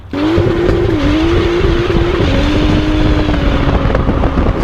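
A Cupra car with a custom DSG tune drives under load with a loud, steady, close engine drone that rises slightly in pitch and then shifts down, with no talking.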